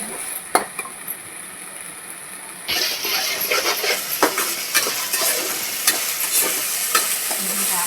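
Sliced onions fry in a pan, a soft sizzle that swells louder partway through as a spoon stirs and scrapes, with repeated sharp clinks against the metal, close and without talk.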